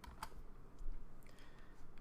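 Quiet computer keyboard typing while entering a measurement in modeling software, a few soft key clicks spread over two seconds with no talk.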